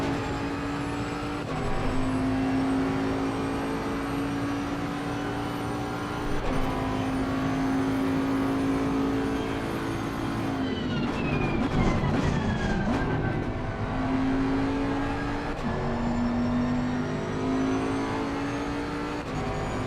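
A race car in Assetto Corsa Competizione revs through repeated gear changes, the engine note climbing and shifting in a steady cycle with a rougher passage midway, loud and continuous without speech.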